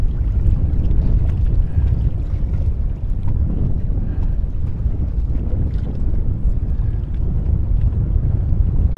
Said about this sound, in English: Nobody's going to get into trouble with these winds right now